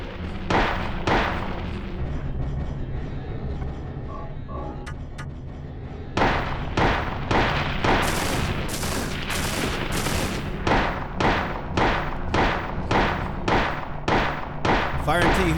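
Gunfire in the Silent Hill video game, a quick pair of shots, then after a quieter gap a steady string of loud, evenly spaced shots with heavy booming tails, close and alone.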